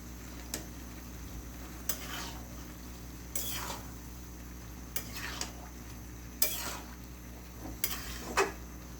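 Fish masala is sautéed in a pan, with a quiet background sizzle broken by about six or seven distinct scraping stirs of a spatula at irregular intervals, and no talking.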